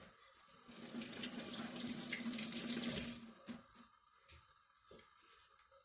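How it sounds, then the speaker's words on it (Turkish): Hands being washed under a running kitchen tap while making a Turkish dessert, a steady close water stream that cuts off midway, followed by a few faint clinks and drips. "Ellerimizi yıkayalım."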